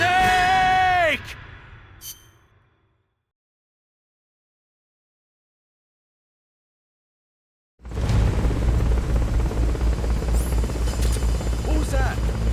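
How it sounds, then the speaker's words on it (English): Helicopter from the Metal Gear Solid: Peace Walker video game, a loud steady rotor drone that begins abruptly after several seconds of silence and continues to the end; a voice is heard briefly at the start. "Forget about the chopper for now."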